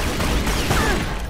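Gunfire in the Tomb Raider Legend video game, a loud continuous burst of rapid game shots filling the short stretch.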